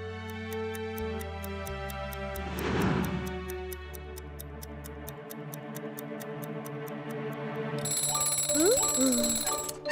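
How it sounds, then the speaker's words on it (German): An alarm clock goes off in a German children's cartoon, a steady ringing that rises over background music and cartoon sound effects, with a brief burst of louder rattling near the end. "Da geht der Wecker los."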